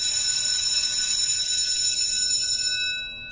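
A school bell rings loudly with a steady, continuous electric tone that holds for about three seconds, then fades out at the end.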